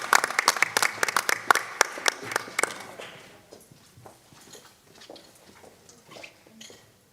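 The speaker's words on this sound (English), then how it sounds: "let's have a big round of applause for all of the girls of the varsity gymnastics team" Applause for a varsity gymnastics team at a school board session breaks out as sharp, sparse claps that are loud for about three seconds, then thin into scattered, fainter claps.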